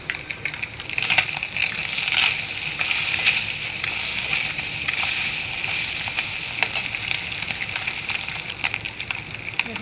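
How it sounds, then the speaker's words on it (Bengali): Stinging catfish (shing) fries in hot oil in a home kitchen, giving a loud, steady, close sizzle and crackle that runs unbroken throughout with small bursts of spitting. "দেখো মাছটা কিন্তু ভাজা হয়ে গিয়েছে,"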